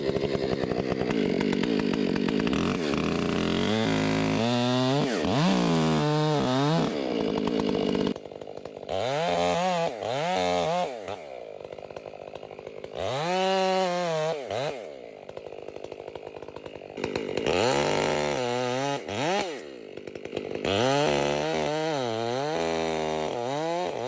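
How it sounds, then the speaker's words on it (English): A lightweight chainsaw cuts down a tree, with loud, close bursts of high-revving engine whine that rise and fall in repeated cycles as the chain bites and the throttle eases, across roughly twenty-four seconds. "Man, I sure do love this saw. The power to weight ratio is so good."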